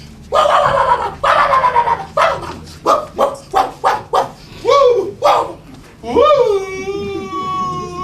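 A person vocally imitates dogs barking, with a rapid series of short bark-like yaps followed by a drawn-out howling whine, loud and close.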